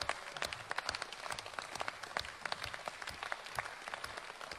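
Distant, faint applause from an audience in a hall, steady scattered clapping continuing throughout without voices.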